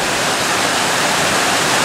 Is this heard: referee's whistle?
no